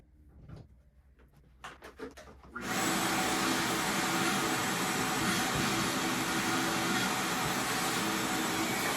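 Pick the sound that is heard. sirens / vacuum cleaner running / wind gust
vacuum cleaner running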